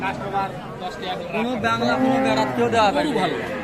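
Cows, including Deshal and Sahiwal breeds, moo in long, drawn-out calls at a cattle market, with several lowing sounds overlapping amid a busy crowd murmuring in the background.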